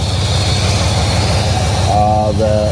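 A 1969 Chevelle V8 with leaking valve cover gaskets idles steadily and loudly, its low, even pulsing filling the whole clip, and a voice briefly joins near the end.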